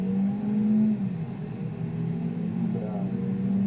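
A car pulls away from a standstill in a snowstorm at about minus two degrees, its engine droning steadily with a rising and falling pitch. Road and cabin noise sit underneath, and people in the car talk over it.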